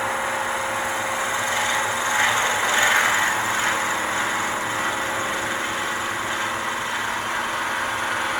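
A power drill bores through a stabilized wood pen blank cut from a tree, a steady, close whirring hum with a slight rise in the middle and no talking.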